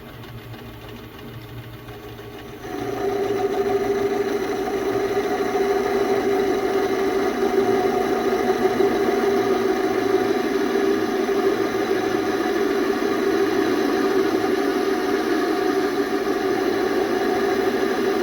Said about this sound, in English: I'm going to run that in, not much, just a relief for the thread tool to come out from